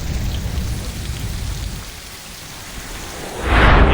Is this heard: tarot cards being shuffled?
no